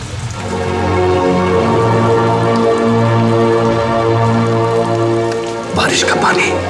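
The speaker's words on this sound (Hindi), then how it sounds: "बारिश हो रही है बाहर।" Steady rain falls outside in a continuous, loud wash that lasts throughout, overlaid with sustained musical tones and a brief louder rush near the end.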